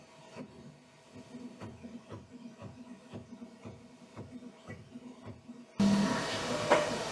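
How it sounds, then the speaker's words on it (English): A Snapmaker U1 multi-toolhead 3D printer swaps tool heads with quick, regular mechanical clicks and whirs, then a louder hiss rises near the end, close by with no talking. "These tool head changes are amazingly fast."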